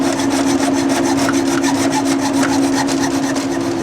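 A metal axle rod for a hinge kit on an oversized exhaust fan base is cut by hand, giving a steady, loud back-and-forth sawing rasp with a regular stroke rhythm throughout, close up and without talk.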